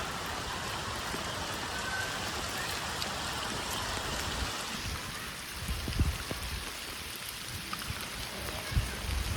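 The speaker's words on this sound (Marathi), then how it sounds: "चांगलाच पाऊस आलाय" Heavy rain pours down in a dense, continuous hiss onto a tin-sheet shed roof, with scattered louder drops and patters breaking through toward the end.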